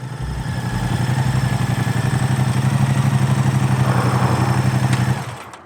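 A Moto Guzzi V100 Mandello V-twin idles close and loud, a steady throbbing rumble with a fast, even pulse that holds for about five seconds before cutting off abruptly.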